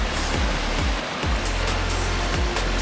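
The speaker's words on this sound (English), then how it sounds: "Little waterfall." A small waterfall beside a mountain trail on Mount Hood's Timberline Trail gives a steady, close rushing roar, with dull periodic thumps of footsteps as someone runs past.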